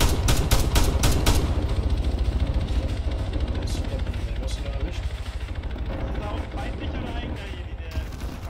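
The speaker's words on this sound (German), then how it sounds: "ich knall dem jetzt da einfach eine verkackte Explosivmunition rein." Explosive ammunition fired in the Arma military video game, a dense burst of sharp gunshots at the start followed by continuous rattling fire and rumbling, loud and close, with voices talking over it.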